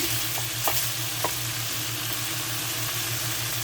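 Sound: sliced meat frying in its own fat

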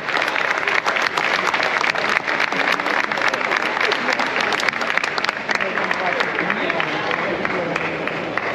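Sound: applause for the giants in Palma

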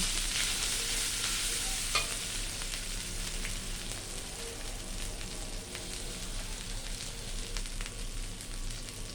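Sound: stir-frying chili in a pan

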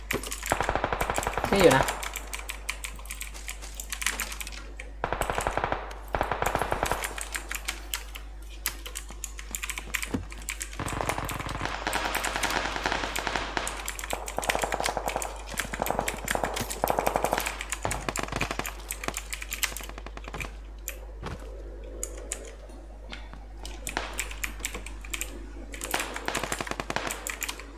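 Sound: gunfire in the video game PUBG Lite

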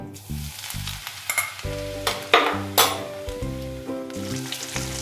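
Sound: frying onions and chillies with asafoetida for sarson ka saag

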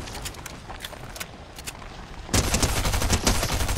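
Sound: gunfire in the video game Fortnite

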